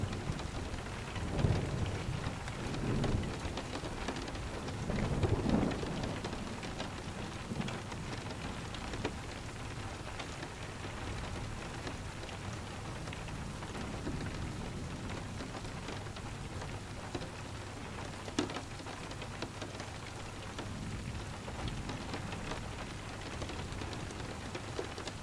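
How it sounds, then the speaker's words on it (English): Steady rain falls on various outdoor surfaces in a thunderstorm, a constant hiss of drops with soft low thunder rumbling early on and fading, no voices. "Each surface outside creates a slightly different sound as the white noise of the rain"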